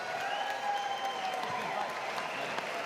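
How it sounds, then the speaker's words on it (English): Sustained applause with some crowd noise fills the hall for two fighters at the close of an American Kombat Alliance championship MMA bout, a dense even clatter of many hands at steady loudness throughout. "how about a round of applause for these two fighters in tonight's championship bout?"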